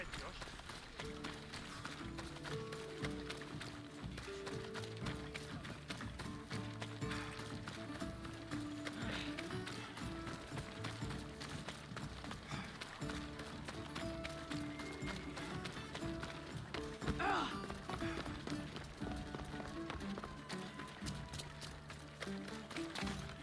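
Galloping horses thunder along in a race in Assassin's Creed Odyssey, their rapid hoofbeats steady and loud throughout, with game music and occasional voices mixed in.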